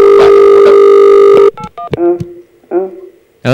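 A telephone dial tone after a call is hung up: a loud, steady hum lasting about a second and a half, then it cuts off and voices speak.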